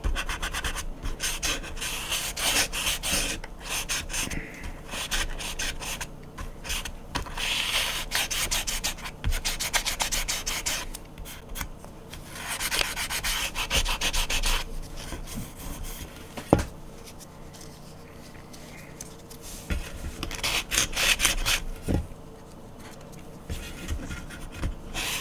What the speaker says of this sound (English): At least the least I can do is sand that down.